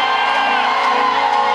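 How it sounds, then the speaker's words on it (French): A church congregation shouts and cheers for joy, a loud, sustained wash of crowd voices and whoops that fills the whole moment without letup. "Est-ce que des cris de joie peuvent monter de cette maison maintenant?"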